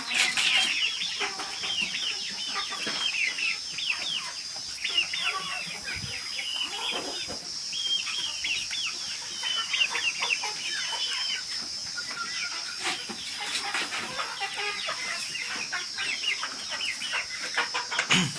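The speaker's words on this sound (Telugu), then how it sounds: "ఇందులో మూడు పుంజులు పెద్దవి మూడు పెట్టలు ఉన్నాయి" Native country chickens and roosters on a poultry farm cluck and chatter continuously, a busy flock at close to middle distance, with steady rustling and a high background hum throughout.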